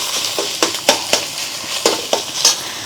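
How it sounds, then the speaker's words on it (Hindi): Bottle gourd being roasted in milk in a pan, with a ladle stirring and scraping in irregular clinks and taps over a soft background sizzle, close and fairly loud. "अब हम इसमें लौकी डाल देते हैं, इसको भूनना है।"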